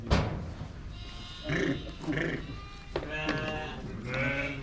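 Merino sheep bleating inside a barn housing a large flock, several loud close calls overlapping one another in irregular bursts against a busy background of livestock noise.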